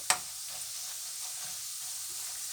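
Pork belly frying in its own rendered fat, a quiet, even sizzle with soft bubbling after one sharp click at the start, close but faint, no talking.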